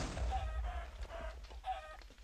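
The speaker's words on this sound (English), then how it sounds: "And there goes that chicken." A chicken in a modded video game clucks several times in short rhythmic bursts over a low rumbling game background, moderately loud and close, with no speech.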